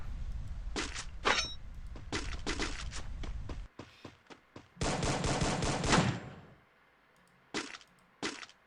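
Rapid bursts of automatic and single-shot gunfire in a Free Fire competitive scrim match, loud and close, with a dense sustained volley in the middle and sharp isolated shots before and after.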